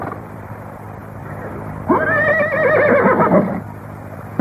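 A horse neighs loudly in a film scene, a long whinny rising and falling for about a second and a half after a stretch of quiet ambience.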